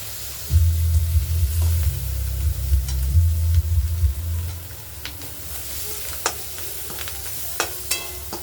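Vegetables with ginger-garlic paste fry in a pan for egg fried rice. A loud low rumble of hot oil comes first, then softer sizzling broken by sharp scraping clicks of stirring, close by and without talk.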